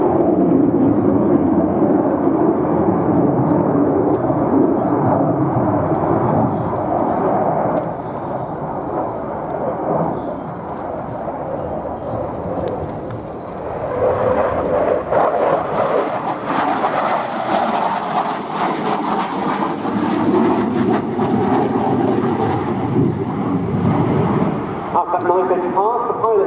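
A Polish Air Force Mikoyan MiG-29A jet fighter flies an airshow display, its loud, continuous engine roar swelling and fading as it passes, while a commentator talks throughout over the public address.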